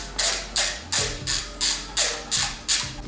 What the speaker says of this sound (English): Alright, so then we get a torque wrench